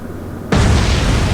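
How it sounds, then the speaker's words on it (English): A torpedo strikes a ship in the naval combat game Atlantic Fleet, a sudden loud blast that cuts in after a brief quiet hum and then holds as a dense roaring rumble. "We weren't able to avoid that torpedo."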